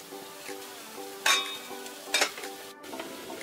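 Plantain slices frying in oil on a stovetop give a steady soft sizzle with a few louder stirring clatters, close and alone with no talking.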